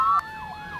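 An emergency vehicle siren in the video game Emergency 4 sounds a short rising tone, then falls into a brief wailing sweep, loud and close with nothing else audible.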